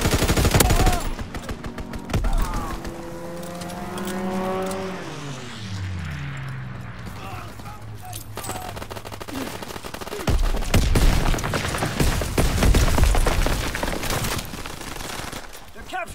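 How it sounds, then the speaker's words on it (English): Aircraft strafing run in the World War II shooter Call of Duty: WWII, a sustained burst of rapid gunfire with an engine roar sweeping past, dense battle noise throughout and shouted voices mixed in. "Strafing run inbound!"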